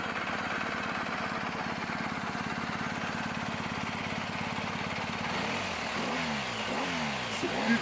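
A 2019 BMW GS1250 Adventure motorcycle engine idles with a steady throb, then blips and revs in sharp rising and falling sweeps as Dynamic mode is engaged, loud and close with no talking.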